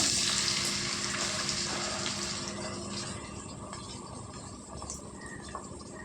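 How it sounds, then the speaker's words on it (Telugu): Onions fry in hot oil in a pan, a continuous hissing sizzle heard up close that eases slightly in loudness as it goes on, with no voices. "నూనె వేడెక్కిందండి. ఇందులో మనం ఉల్లిపాయలు వేసేసుకున్నాం."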